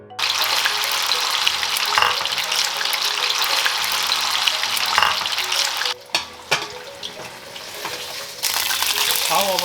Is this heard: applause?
no